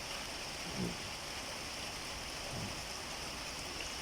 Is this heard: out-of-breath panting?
no